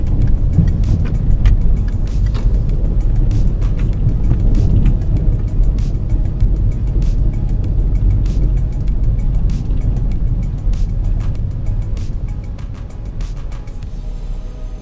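A Citroën C4 VTR with roughly 150 horsepower pulls away in second gear through city streets, its engine a steady low drone heard from inside the cabin, easing slightly toward the end.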